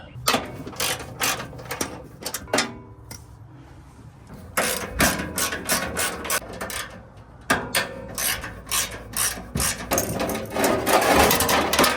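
A ratchet removes 12mm bolts from the skid plate pan on a Toyota Sequoia/Tundra 5.7L, loud close ratcheting clicks in several bursts separated by short pauses.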